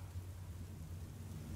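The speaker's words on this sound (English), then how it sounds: "I hear thunder. Pitter-patter." Rain and rolling thunder in the video game Furi form a faint, steady wash of rainfall over a sustained low rumble, with no voices.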